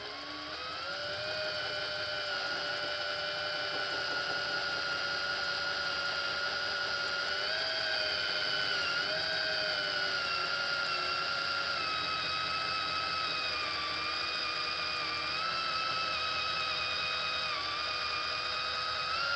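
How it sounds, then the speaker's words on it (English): A 7/8-inch Forstner bit drills through a plug in a Chevy Colorado battery setup, a steady whirring drill tone running continuously and fairly loud for the whole stretch with slight pitch dips under load, no talking. "I got a 7/8 Forstner bit, and let's see if it can cut through."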